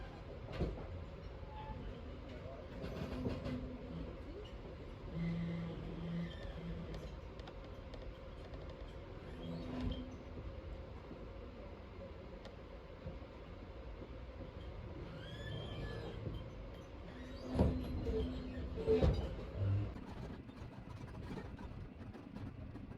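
The Overland train departs North Shore Geelong, rumbling and clattering along the rails, with occasional metallic squeals and thumps and a low steady drone; no one speaks.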